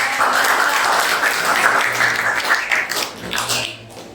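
A room full of people applauding, a dense wash of clapping that swells and then thins out near the end.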